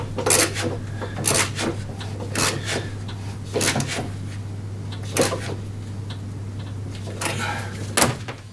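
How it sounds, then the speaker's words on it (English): Spanner ratcheting and scraping as it tightens the blade nut on a self-propelled petrol lawn mower, a series of repeated rasping strokes at irregular intervals over a steady low hum, fairly close. "I begin tightening the blade."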